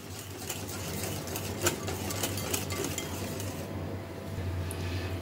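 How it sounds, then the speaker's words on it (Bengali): Mango pulp is stirred into a creamy dessert mixture: soft, steady scraping and light clinks of a utensil against a bowl, quiet and continuous over a low background hum. "এবার আমি এর মধ্যে অ্যাড করছি তৈরি করে রাখা ম্যাঙ্গো পাল্প। এবার এটাকে ভালো করে মিশিয়ে নিতে হবে।"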